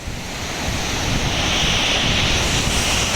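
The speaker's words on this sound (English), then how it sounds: "this is just for waves and stuff. It's very loud" Waves crash steadily on the Lake Superior shore after a storm, a loud continuous surf roar mixed with wind buffeting the microphone.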